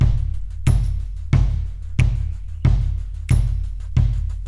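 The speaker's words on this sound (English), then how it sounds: "So there's this tambourine, some snaps I recorded, and a makeshift shaker kind of thing I recorded." Looped percussion of a tambourine, finger snaps and a makeshift shaker made by scratching a tissue box pulses in an even rhythm, with each bar opening on a strong hit followed by a crisp rattling decay.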